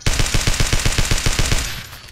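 An RPK machine gun fires in the video game Blockade 3D, a fast steady burst of about a dozen loud close shots in even rhythm, ending in a short fading tail.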